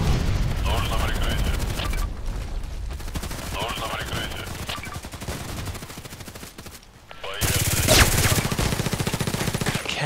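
Rapid automatic Glock 18 pistol fire in the shooter game Contract Wars, loud and sustained in long bursts with brief pauses between them.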